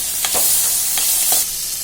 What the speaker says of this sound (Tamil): 2 தக்காளியும் சேர்த்துக்கலாம். இப்போ சேர்த்து வதக்கணும்